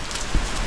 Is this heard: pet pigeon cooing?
no